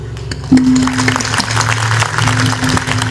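Audience applause at an SSC farewell ceremony, a loud, dense burst of clapping that erupts suddenly and keeps going steadily for a few seconds.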